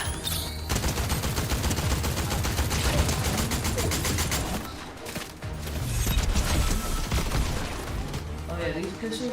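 Rapid video-game pistol gunfire in dense, loud bursts nearly throughout, with a brief lull midway, mixed with game sound effects and a voice talking over it.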